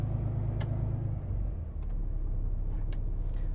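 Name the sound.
Kenworth W990 truck engine high idle dropping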